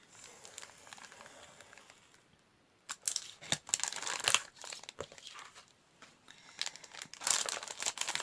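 Packaging being cut open and crumpled nearby, with loud bursts of crinkling plastic and paper rustling after a quieter stretch of soft handling, irregular and close.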